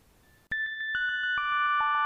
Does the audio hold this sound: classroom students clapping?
no